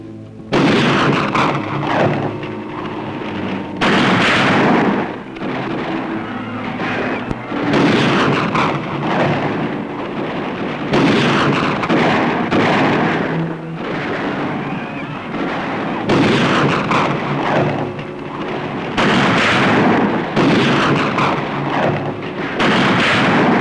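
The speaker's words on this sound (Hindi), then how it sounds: "गोली चला दो, अभी पता चल जाएगा।" Heavy booming gunfire in repeated bursts from a Pakistani film, loud and close, with rumbling blasts recurring every few seconds throughout.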